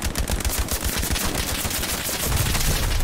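Dense, loud rapid gunfire fills a D-Day city assault in the WWII shooter Hell Let Loose, machine-gun bursts rattling continuously and then deepening into a heavier volley.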